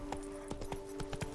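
Roach, Geralt's horse in The Witcher 3, gallops with a brisk run of hoofbeats, a dozen or so clops in uneven clusters over a humming tonal background.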